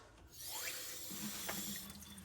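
Kitchen faucet running into a wall-mounted sink over a clean Formica countertop, a steady strong stream of water splashing close by for the whole moment, with no talking.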